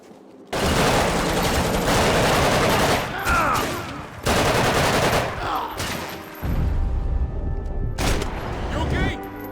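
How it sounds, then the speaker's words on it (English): Loud automatic gunfire from a Max Payne 3 shootout in a church setting comes in long sustained bursts with short pauses between volleys, while voices call out over the fighting. "Shoot him already!"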